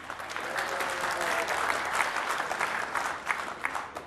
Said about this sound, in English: Okay, you're clapping, that's great because it's wonderful